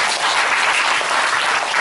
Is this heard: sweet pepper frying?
no